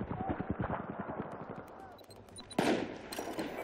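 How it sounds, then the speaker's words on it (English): Automatic weapon fire in the video game Battlefield 4, a rapid burst of rattling gunshots followed by a louder blast, heard over game audio with a player talking. "all of my bullets are going through enemies, and I shoot him one shot"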